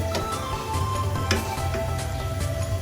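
Balushai fry in ghee with a soft, continuous sizzle and bubbling, close by, with a few faint clicks of a utensil against the pan.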